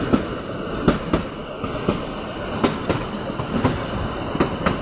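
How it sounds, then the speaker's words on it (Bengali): Kalka–Shimla toy train, a small seven-coach Kalka–Shimla Express on the mountain line in monsoon, rolling steadily with repeated clickety-clack wheel knocks and rail clatter heard close from inside the rear coach, with no voices. "এই ট্রেনটার নম্বর হচ্ছে 52459 কালকা সিমলা এক্সপ্রেস"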